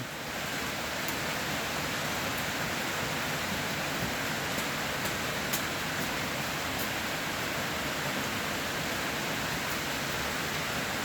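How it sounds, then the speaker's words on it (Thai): Steady, dense rain hisses without pause, a constant wash of noise with a few faint clicks scattered through it. "ฝนตกลินลิน"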